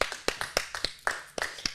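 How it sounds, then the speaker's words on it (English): A small group claps in a loose, uneven patter, around a dozen sharp close hits spread over under two seconds, with no talk over it. "Okay, well, let's all clap for everyone."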